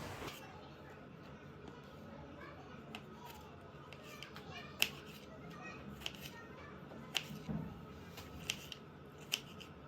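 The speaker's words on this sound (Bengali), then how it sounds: "এবার আমি টমেটোটাকেও ছোটো ছোটো করে কেটে নিচ্ছি।" A knife chops tomatoes into small pieces on a board for an egg curry, giving faint, irregular sharp taps spaced a second or so apart over quiet room background.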